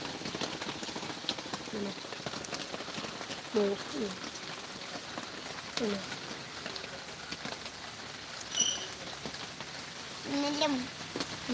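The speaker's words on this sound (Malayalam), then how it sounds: "മഴയാണ് നല്ല മഴയാണ്" Continuous rain hiss in the background, with a few faint voices talking intermittently over it.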